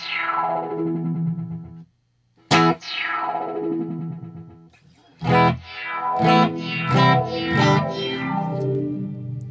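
An effected electric guitar through a Boss delay pedal rings out with notes that repeat and smear downward, building into dense, distorted echoing feedback trails.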